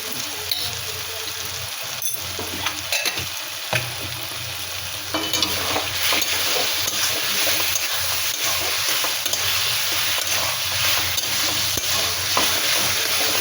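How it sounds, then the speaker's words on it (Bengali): Taro (kochu) pieces fry in a pan and are stirred, giving a loud, continuous close sizzle broken by scraping and stirring noises, with no voices. "এই কচু ভাজা, দেখো ভাজা হচ্ছে।"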